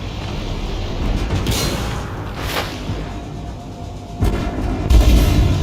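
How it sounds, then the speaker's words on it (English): A tank in the video game Armored Warfare fires off a smoke grenade, a loud booming launch followed by a few heavy thuds and whooshing bursts over a rumbling engine and battlefield din. "Smoke grenade out."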